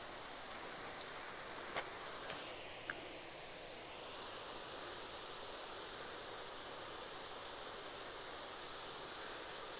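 Lace Falls cascade at Natural Bridge State Park, a constant soft rushing wash of water heard from nearby, faint and even with a couple of small clicks.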